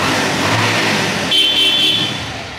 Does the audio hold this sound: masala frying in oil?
no